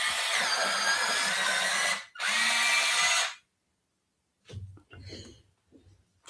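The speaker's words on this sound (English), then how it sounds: "I'm going to sharpen my purple now." A purple pencil is sharpened in two close, loud grinding bursts of about two and three seconds, then silence, then faint rustling.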